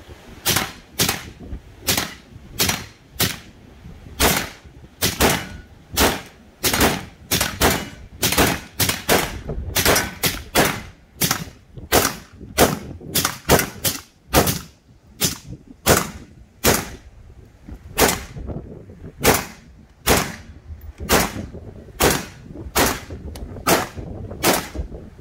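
A suppressed, piston-operated full-auto gun fires a long run of sharp, loud reports at a fairly steady, rapid rhythm, close by with no talking.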